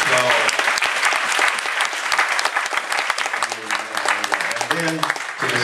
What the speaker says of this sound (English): Can we just give all of the preachers a big warm round of applause?